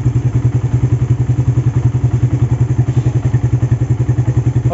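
Suzuki Satria FU engine fitted with an oversize Tiger 250 piston idles steadily, a close, even, loud rhythmic thumping pulse with no talk over it.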